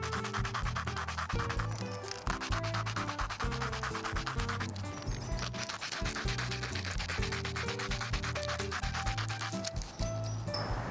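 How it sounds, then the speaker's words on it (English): A cut edge of a window blind is sanded smooth by hand with steady rubbing and scraping strokes, close and fairly quiet, with no talking. "I'm just gonna sand it out a little bit"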